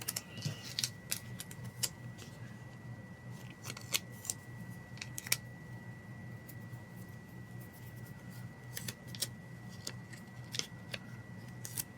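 Scissors trim a small piece of paper for a reading journal: a series of quiet, crisp snips at a steady pace, close and soft against light handling noise with no talk.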